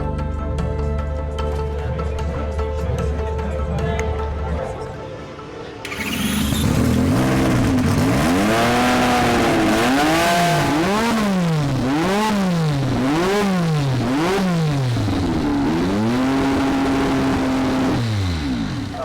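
A Honda Formula One race car engine idles and then roars into repeated high-pitched revs, rising and falling in quick waves, loud and close throughout.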